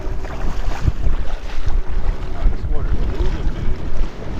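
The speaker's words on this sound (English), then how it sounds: "I think that wind is just pushing it and really making it rip." Wind gusts steadily over a fishing boat on inshore South Carolina water, a loud, continuous roar with buffeting low rumble throughout.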